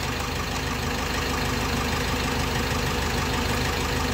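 A car engine idles steadily in a low, even drone with a faint regular knock, running throughout while a TUSA tyre inflator pumps up a tyre, with no talking.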